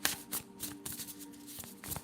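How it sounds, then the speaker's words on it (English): Tarot deck being shuffled by hand indoors, with quick papery riffles and soft card flicks in a rapid, uneven patter, close and quiet, over a faint steady hum. "Okay, let's start shuffling."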